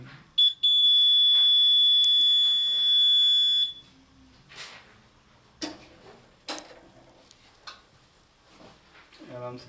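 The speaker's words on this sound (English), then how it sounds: "The fire alarm system has gone back into the fire alarm condition as there is still smoke detector gas within the chamber of the detector." A fire alarm sounds from a RedCare Secure Touch monitoring panel as a smoke detector is triggered: a steady, loud electronic tone runs for about three seconds, then cuts out, leaving faint clicks and soft handling noises.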